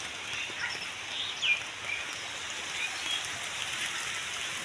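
Rain falling outdoors at a fish farm, a steady soft hiss of drops across open ground with a faint distant bird call or two, no voices.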